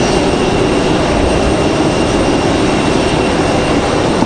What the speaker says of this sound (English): This is one of our training airplanes here at the airport.